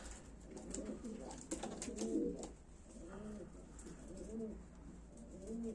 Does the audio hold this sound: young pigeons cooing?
yes